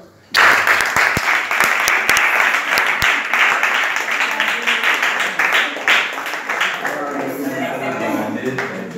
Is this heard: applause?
yes